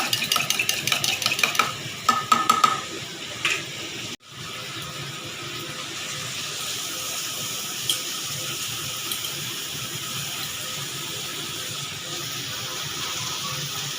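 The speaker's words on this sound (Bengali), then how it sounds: "টক দইটা ফেটে আমি মাংসর মধ্যে দিয়ে মেখে নেব টেস্ট হওয়ার জন্য" Chicken pieces are mixed by hand with beaten sour yogurt, giving a close, continuous wet squelching and sloshing. The sound is busier early on, breaks off abruptly, then resumes as a steady soft churn with no one speaking.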